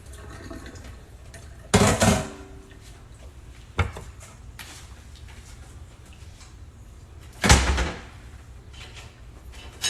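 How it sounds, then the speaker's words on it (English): Kitchen tap water rinsing a squash, heard as two short loud gushes of running water with a faint clunk between them and quiet room noise in the gaps. "So I'm going to rinse this off first."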